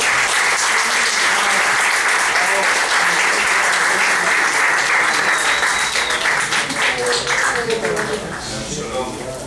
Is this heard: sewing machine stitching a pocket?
no